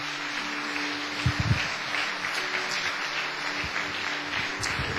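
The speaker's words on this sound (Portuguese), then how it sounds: "Quantos querem dar uma salva de palmas para o Senhor Jesus?" A church congregation applauding, a dense, steady roar of many hands clapping that carries on without a break, with a few brief louder bursts near the start.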